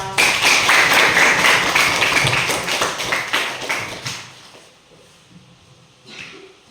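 A classroom of students applauds their classmates, a burst of lively clapping that tapers off after about four seconds and gives way to quiet room tone with a faint stir near the end.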